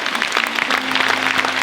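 A congregation applauding at a Holy Spirit church conference, with dense, steady clapping throughout and a faint sustained organ-like tone beneath.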